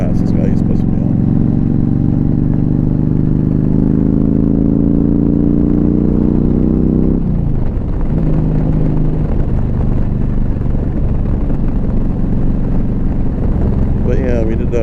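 A 2015 Yamaha V Star 1300 Deluxe SE engine rumbles loudly, rising in pitch as it accelerates to pass, then settling to a steady drone with heavy wind roar on the road.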